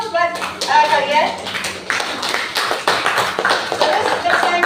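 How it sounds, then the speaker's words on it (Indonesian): Schoolchildren in an Indonesian classroom clap their hands together, a burst of quick uneven claps that swells and carries on for several seconds, with some voices mixed in. "Tepuk tangan dulu buat kalian."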